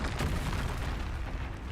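A Confringo blasting spell goes off in Hogwarts Legacy as one sustained, loud, booming explosive rumble lasting under two seconds, with no voices heard.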